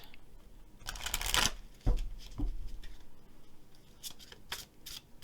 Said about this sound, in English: Let's shuffle and draw some color cards.